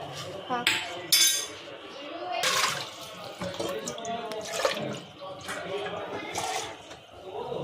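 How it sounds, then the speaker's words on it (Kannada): Water is poured into a dish cooking in a home kitchen, with splashing and trickling mixed with clinks of utensils, while people talk over it. "ಸ್ವಲ್ಪ ನೀರು ಹಾಕಲಿ."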